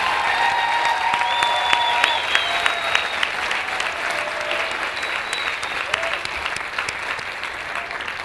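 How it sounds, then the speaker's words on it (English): Sustained, dense applause fills a university commencement ceremony hall as the audience claps for the students' families, a loud continuous patter with scattered sharper claps and a faint murmur of the crowd throughout. "Let's give a rousing applause to all of our students' families."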